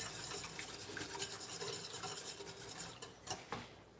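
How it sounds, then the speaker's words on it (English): Whisking in a mixing bowl while preparing creamy chicken tortilla soup, a steady run of quick scraping, clinking strokes close up, slowing and thinning toward the end, with no talking over it. "All right, so I'm just whisking it here,"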